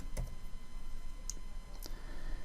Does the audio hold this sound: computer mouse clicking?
yes